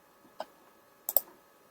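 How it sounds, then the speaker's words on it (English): Computer mouse clicks in a quiet room: a single soft click, then a quick double click a moment later. "To get more information on any of these, we can click on them."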